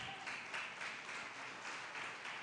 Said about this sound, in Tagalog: Kulang na palakpak yan